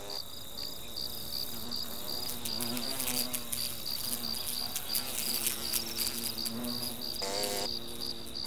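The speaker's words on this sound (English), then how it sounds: "They use their wings as fans, fanning cool air into the nest." Hornets fan their wings at the entrance of their nest, making a dense, continuous close-up buzz with a steady high drone and shifting wingbeat hum.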